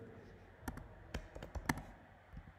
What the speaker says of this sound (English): I will type media player service